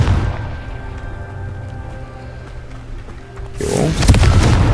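A Confringo blasting spell in Hogwarts Legacy ends in a sudden loud explosive burst after a low, humming stretch of game sound.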